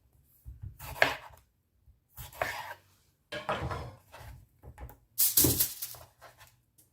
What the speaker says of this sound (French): couper les tomates en 4 et on va les disposer pareil sur la plaque